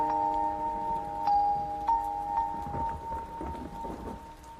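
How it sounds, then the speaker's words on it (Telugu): Steady rain falls through a dramatic film scene, a soft continuous hiss with occasional low rumbles beneath sustained background music tones, and no voices. "వర్షం పడుతోంది"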